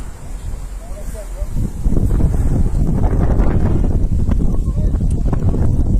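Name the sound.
strong wind blowing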